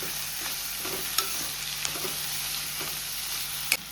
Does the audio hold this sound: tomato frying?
yes